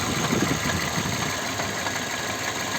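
A car's gearbox drive knocks while the engine idles, heard close up as a steady mid-pitched engine hum with a rough vibration and no talking.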